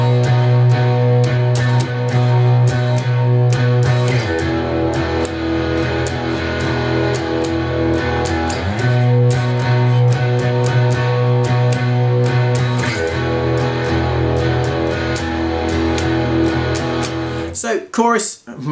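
An electric guitar plays the pre-chorus of a song, strummed chords ringing steadily and loud with slight distortion, shifting chord roughly every four seconds, ending with a few scratchy muted strums.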